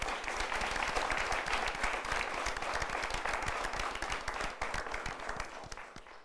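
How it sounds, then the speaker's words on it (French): Sustained, dense applause from an arena audience at a live competition event, steady and loud throughout with no pause. "Applaudissez très très fort pour Christ Gauthier."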